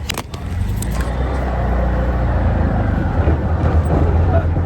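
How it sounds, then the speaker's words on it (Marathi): An auto rickshaw ride carries a steady low engine rumble and road noise from inside the cabin, loud and continuous throughout. "आता रिक्षातून आम्ही चाललो"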